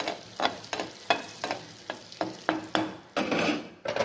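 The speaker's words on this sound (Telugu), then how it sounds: "సో కొంచెం వేడెక్కిన తర్వాత రెడ్ చిల్లీస్ కొంచెం వేసుకుందాం స్మెల్ కోసం." Red chillies frying in heated butter in a pan, with a steady sizzle broken by repeated rhythmic scraping strokes of a stirring utensil, close and fairly loud with no talking.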